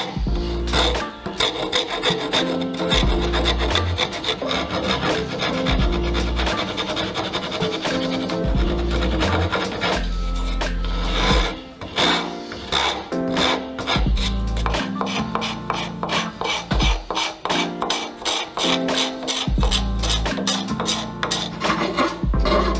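A rasp smooths the volute of a wooden guitar neck with dense, loud rasping strokes, near and continuous, speeding up toward the end, with no voices.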